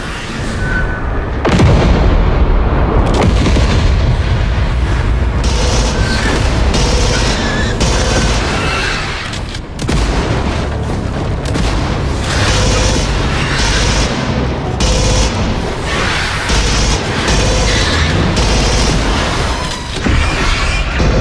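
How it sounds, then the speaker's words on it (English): Grenade and combat blasts in a VR shooter while waves of enemies attack, a long stretch of loud, dense booms and gunfire with heavy low rumble and frequent sharp impacts, almost no pauses, and voices under the chaos. "Heads up, grenade."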